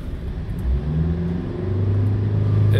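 Diesel engine of a Mitsubishi L200 with an overloaded DPF, revved in neutral; a close, loud engine rumble rises steadily in pitch and volume over a few seconds.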